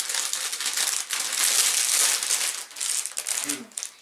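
Wrapping on a parcel crinkles and rustles up close as it is pulled open, in loud continuous bursts with a brief lull, and voices are faint in the background.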